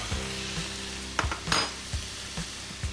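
Butter sizzles in a pan with mushrooms and red onion, a steady close frying crackle broken by a few soft clunks and stirring scrapes.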